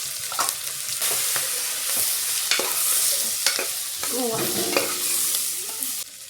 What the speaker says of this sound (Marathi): थोडासा हिंग, हळद आणि बघा आता आपण जो वाल धुवून ठेवलेला आहे ना छान, तो टाकून घ्यायचा आहे